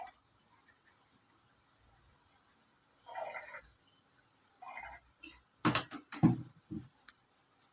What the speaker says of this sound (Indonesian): Kita menuangkan air panas ini tidak full sampai buli-buli panasnya ya.